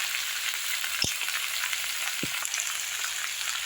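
Potatoes and onions frying in oil with turmeric, a dense, continuous close-up sizzle with two brief low knocks of utensil against pan.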